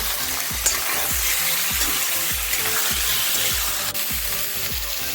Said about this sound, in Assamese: মাংসখিনি এতিয়া মই অলপ সময়ৰ কাৰণে লৰাই দিম আৰু ইয়াত ধুনীয়া ৰং এটা অহালৈকে মাংসখিনি এনেদৰে ভাজি থাকিম